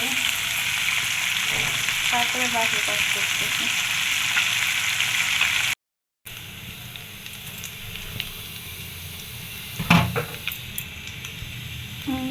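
Fish sizzle steadily as they fry in a pan, a continuous crackling hiss that carries on through a brief gap, with a short spoken remark and a few louder clatters near the end.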